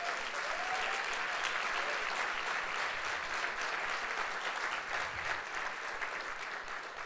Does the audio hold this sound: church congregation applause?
yes